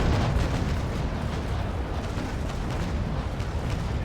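A naval broadside of cannon fire in a sailing-ship battle game, heard as a dense, continuous booming roar with rolling low rumble throughout, loud and close, no voices.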